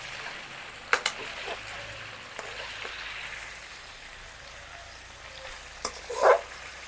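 Chicken masala frying in a pan in a village-style kitchen, a soft steady sizzle with occasional clinks and scrapes of stirring, one brief louder stir near the end.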